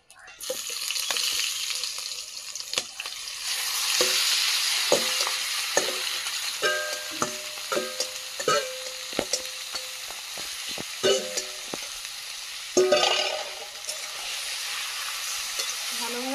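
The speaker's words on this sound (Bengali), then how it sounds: "এবারে এইভাবে মাংসটা কষিয়ে নেবো ঢাকা দিয়ে দিয়ে।" Duck meat stir-fried with spices in a pan over a wood fire, a loud continuous sizzle broken by repeated scraping and clattering strokes of a spatula, close and busy throughout.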